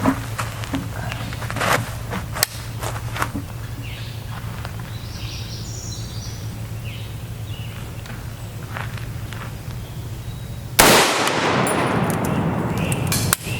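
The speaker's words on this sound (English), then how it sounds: "We'll take another shot with the M2AP." A single loud rifle shot of M2AP armor-piercing ammunition strikes a Level IV Engarde body armor plate backed by a trauma pad, cracking sharply and ringing out after a stretch of quiet outdoor rustling and faint footsteps.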